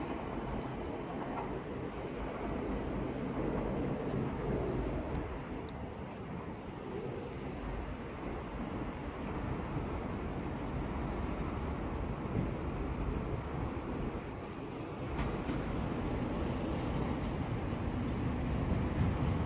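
An 8-coach Class 465 electric train passes at Lewisham, a steady, continuous low rumble and rolling roar that holds throughout at moderate distance, with no talking.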